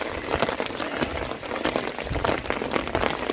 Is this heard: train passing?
no